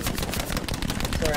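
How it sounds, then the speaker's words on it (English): Gunfire aimed at the player in a squad-based shooter video game: a dense, continuous rattle of rapid shots, loud and close throughout, with no pause. "Sorry, I'm being shot at."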